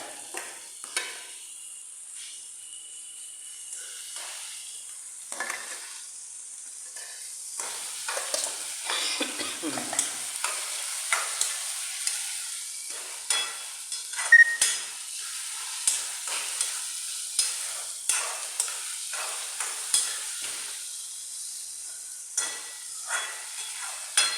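Onions and tomatoes fry in a pan over medium heat, a continuous hiss and sizzle with repeated spatula stirs and scrapes at an irregular pace, close and moderately loud, with no talk.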